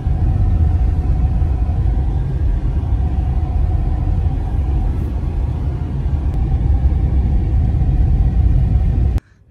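A car rolls along a road with a continuous low engine rumble and tyre drone, loud and steady for several seconds before cutting off abruptly near the end; no one speaks.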